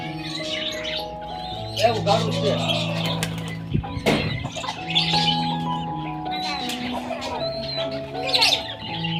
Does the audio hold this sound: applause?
no